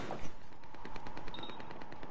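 Rapid automatic gunfire in the video game Battlefield 4, a steady burst of evenly spaced shots close and loud over a constant background din.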